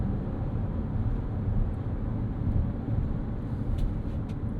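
A 2025 Toyota Highlander Hybrid rounds a corner, giving a steady low rumble of road and cabin noise with faint ticks from inside the car and no voices.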